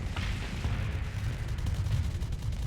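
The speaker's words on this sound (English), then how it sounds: "A little bit of friendly fire from those devastated cannons." Cannons firing during a video game battle, a dense stream of booming blasts and rumbling explosions overlapping continuously, loud and near, with no talk.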